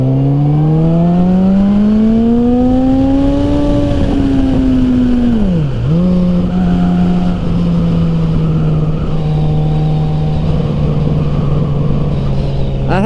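A 1000cc sport motorcycle accelerates hard on a straightaway of a Pennsylvania riding course; the engine's loud, close whine climbs in pitch, drops sharply at a gear change, then holds a steady drone.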